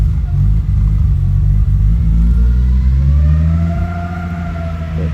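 A 1994 Nissan Skyline creeps forward in first gear with a loud, steady low engine drone close by. A rising and falling whine builds toward the end, and no one talks over it.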